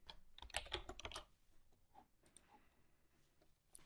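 Keys clatter on a computer keyboard as switch commands are typed, with a burst of rapid close clicking early on and then sparser, softer taps, quiet overall with no talk.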